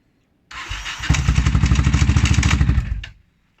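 A Yamaha XT660R single-cylinder motorcycle with gearbox trouble cranks briefly, then fires and runs loudly up close with a fast, steady thumping beat for a few seconds before cutting off.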